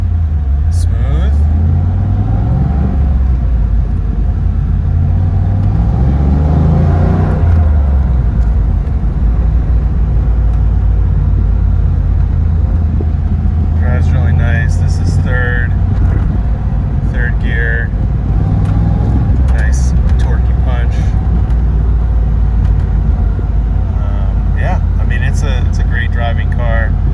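Exhaust note of a low-mile six-speed Camaro Z28 while driving, a steady loud low rumble with engine revs rising and falling through the gears, someone talking over it now and then.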